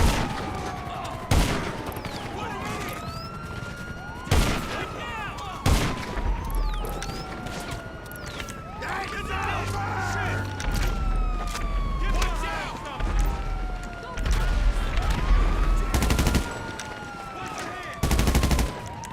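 Gunfire in GTA Online: sharp, loud shots ring out in irregular bursts over a wailing police siren that sweeps up and down throughout, with a low rumble in the background.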